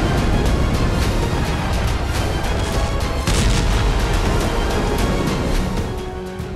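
Rapid bursts of gunfire and heavy booms from a Russian vessel firing at sea after a Ukrainian unmanned surface vessel explodes, loud and dense throughout, tapering slightly at the end.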